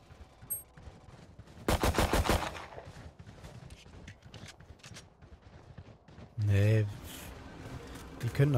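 Valorant gunfire crackles in a short rapid burst, followed by quieter clicks and shuffling, then a louder synthetic sound effect near the end.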